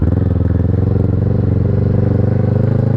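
A Kawasaki Versys 650 motorcycle engine running while riding, a loud, steady low rumble with a fast regular pulse throughout, heard close and with no talking.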